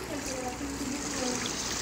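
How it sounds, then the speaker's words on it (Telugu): Fountain water trickling and splashing steadily in a Roblox mega mansion game, a continuous bright wash of running water with faint talk underneath. "ఇది అది ఫౌంటైన్."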